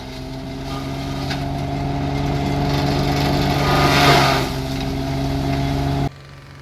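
A tractor-powered shredder grinding coconut waste gives a steady, loud, humming mechanical drone that swells briefly midway, then drops abruptly to a lower level near the end.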